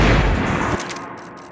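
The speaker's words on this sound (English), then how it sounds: "Bullets came from long range." Gunshots fired from long range in Max Payne: a loud, dense burst of reports that cuts off abruptly and leaves a fading tail.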